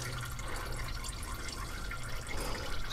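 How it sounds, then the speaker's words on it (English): Engine oil drains from a GMC 2500HD truck with a 6.6L gas engine (L8T), a continuous close liquid pour and trickle that stays steady throughout. "Obviously, when you get some air in there, it's going to drain the rest of this oil out."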